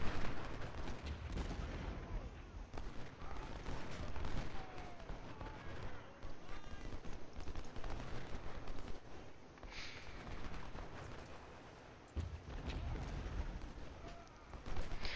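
A Civil War battle in Ultimate General: Civil War, with artillery including 6-pounder guns firing repeated booms and cracks over a dense, continuous din of musketry, heard at a middle distance.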